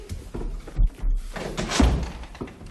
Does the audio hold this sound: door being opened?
yes